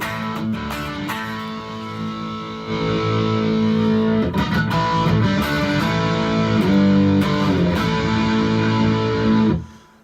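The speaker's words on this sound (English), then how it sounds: "switch over to the lead channel on my amp" Distorted electric guitar through a Roland amp's lead channel, a driven lead tone with sustained notes and chords ringing loud and continuous for about nine seconds before cutting off.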